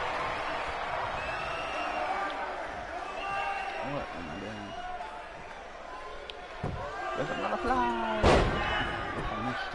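Arena crowd in the WWE 2K19 wrestling video game, a steady roar of cheering beneath continuous commentary, with a few thuds and a loud impact near the end.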